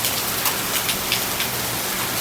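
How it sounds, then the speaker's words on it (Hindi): Steady rain falls on surfaces nearby, a dense even hiss with scattered louder drops and no voices. "बारिश को भी अभी होना था"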